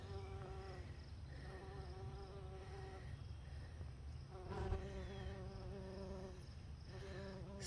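A honeybee buzzes on a lupin flower in a native flower bed, a faint but steady wavering drone close by, with quiet outdoor background and no talk.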